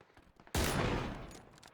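A single loud gunshot sounds in the video game PlayerUnknown's Battlegrounds, a sharp burst that fades over about a second, after quiet background noise.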